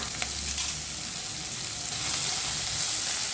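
Chopped onions frying in oil in a kadai, a loud continuous hiss and sizzle close up with faint stirring, no voices.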